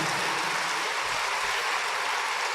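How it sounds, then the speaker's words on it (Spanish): A church congregation applauding, a dense, steady wash of many hands clapping that fills the space at full loudness without pause. "démosle un aplauso"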